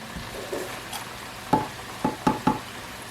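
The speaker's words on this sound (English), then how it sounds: "I'm going to put them in here and let them fry until it's done." Sweet potato fries sizzle in hot oil with a soft, continuous frying hiss, broken by several sharp crackles and pops near the pan.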